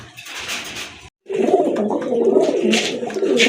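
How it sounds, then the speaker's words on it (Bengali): A pair of large mixed-size Mili pigeons coos close by: a soft flutter, a brief silence, then steady, rolling throaty cooing that carries on to the end. "আরেক জোড়া কবুতর দেখতে পাচ্ছেন মিক্স সাইজের এক জোড়া মিলি কবুতর"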